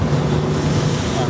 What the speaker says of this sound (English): God, they're quiet, those engines.